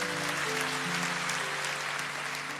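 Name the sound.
congregation applause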